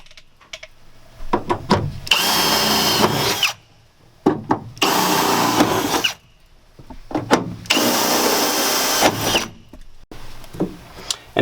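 A power punch drives rivet holes through a metal A-frame for wall and ceiling interior framing, in three long loud bursts of whirring and grinding, each bracketed by sharp clicks and clatter, close up with short quiet gaps between.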